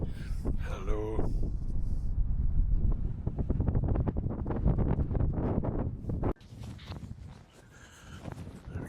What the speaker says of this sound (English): Wow, it's windy up here.